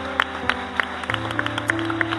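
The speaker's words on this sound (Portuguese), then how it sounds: "Você pode aplaudir o Senhor?" Clapping from a church congregation, scattered hand claps over a steady background of sustained music or hum, moderately loud.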